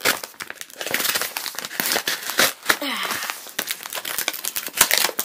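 Plastic packaging on a DHK Hobbies Zombie 8E RC car kit crinkles and crackles as it is cut open, a close run of irregular crisp rustles and snaps with brief pauses.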